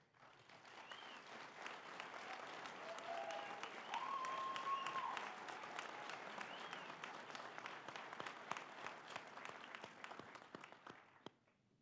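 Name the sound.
applause at a graduation ceremony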